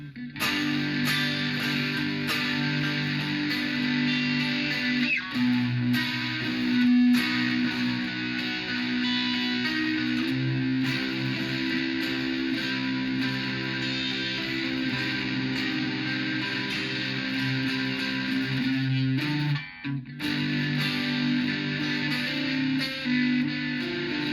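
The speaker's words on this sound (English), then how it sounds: "then he turns on distortion, and it just plays the same chords basically" Distorted electric guitar chords ring out loud and sustained, the same chord pattern repeating with a brief break near the end.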